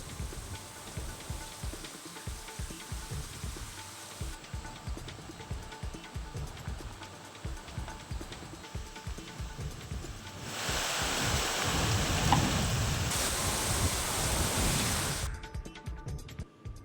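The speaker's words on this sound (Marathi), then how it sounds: "सोसाट्याच्या वाऱ्यासह जोरदार अवकाळी पाऊस झाला।" Heavy unseasonal rain with hail and gusty wind hisses down steadily, swelling into a louder, denser downpour partway through before easing again, with no voices.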